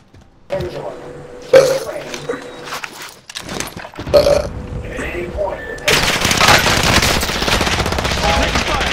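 Rapid automatic gunfire bursts in a first-person shooter video game, loud and close, broken by pauses and then a long sustained stretch of firing, with a player talking over the shots.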